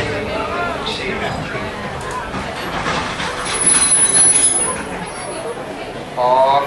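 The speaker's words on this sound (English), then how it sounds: "please remain in your seat until the train comes to a complete stop" The Walt Disney World Railroad train rolls along its rails with a steady rumble and rattling rush that swells midway, with a faint wheel squeal at the end and talk over it.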